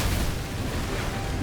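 Dense, rumbling explosions boom continuously in the video game Skul, loud and overlapping in a short burst.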